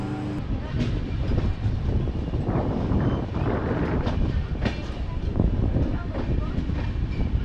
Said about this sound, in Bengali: এখন আমাদের ট্রেন ঢুকছে বারাণসী জংশনে।